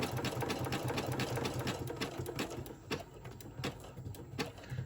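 A sewing machine zigzag-stitching around the edge of a fabric image for a Christmas countdown calendar page, its fast steady whirring and rapid needle clatter running close and continuous without talk, easing slightly toward the end.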